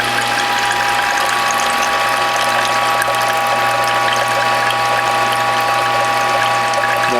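A juicer presses cucumber, Swiss chard, French sorrel, dandelion, zucchini and carrot, making loud, continuous mechanical grinding with a ratcheting, gear-like churn that never lets up.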